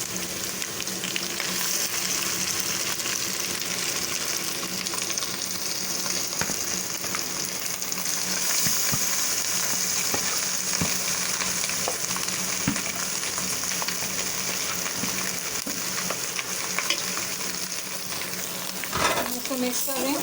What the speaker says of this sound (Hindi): इसको मिक्स कर रहे हैं।